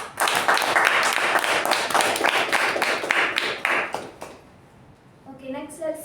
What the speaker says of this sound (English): let's give a huge round of applause to Toastmaster Sachin.